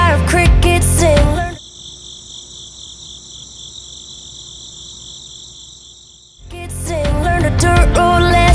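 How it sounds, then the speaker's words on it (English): Crickets chirp in a steady, high pulsing chorus, heard alone in the middle between loud bursts of music at the start and end. "you might have never heard a choir of crickets sing"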